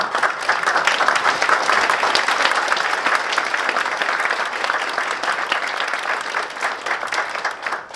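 Large forum audience at a peace and security conference gives sustained applause for a former UN Secretary-General's keynote, a thick, even clatter of many hands continuing steadily without a break.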